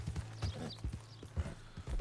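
Horse hooves clip-clop at a steady walking pace in the Red Dead Redemption 2 video game, a rhythmic series of soft, close thuds with a faint background hum and no talk.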